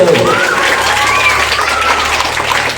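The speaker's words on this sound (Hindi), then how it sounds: "जोर से ताली बजाओ अपने लिए।" Children applauding loudly in a group setting, a dense, sustained wash of clapping that fills the space steadily, with some voices mixed in beneath the claps.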